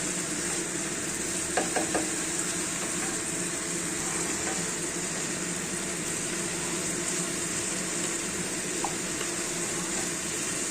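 Drumstick flowers with potato and black cumin powder stir-frying in a pan: a steady, soft sizzle with a few light scraping clicks of a spatula, no one talking.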